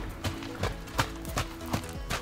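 A trained, obedient horse at a ranch walks with an even clip-clop, six clear hoof strikes at a steady rhythm, close and distinct.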